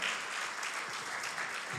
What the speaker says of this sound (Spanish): Damos un aplauso a eso.